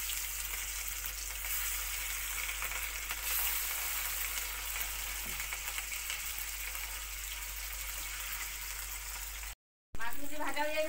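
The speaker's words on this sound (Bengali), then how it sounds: "মাছগুলি ভাজা হয়ে গেছে গিয়া," Fish frying in hot oil gives a loud, steady, continuous sizzle that fills the whole stretch, broken by a brief silent gap before a voice speaks near the end.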